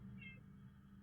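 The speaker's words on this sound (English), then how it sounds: "He's a cat." A house cat gives a single short, faint meow indoors over a low steady electrical hum.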